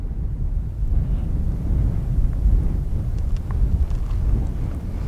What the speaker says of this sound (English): It's a little bit windy now that I'm out of the trees.